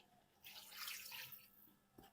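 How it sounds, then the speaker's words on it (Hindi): Water pouring into a cooking pot of gourd and meat curry, a soft splashing stream lasting about a second, faint and close, with no talk. "400 ml पानी डाल दें।"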